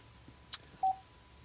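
A single keypad tone beeps once at moderate volume from an Alpine iLX-702d car stereo's numeric dialing screen, preceded by a faint soft tap, with quiet background otherwise.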